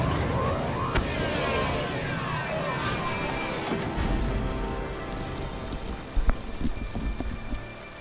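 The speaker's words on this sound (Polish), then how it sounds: "Ale pada." Heavy rain pours down in Mass Effect 2, a dense, constant wash of drops hitting surfaces with a few heavier splashes and faint rumbles near the end, and no voices.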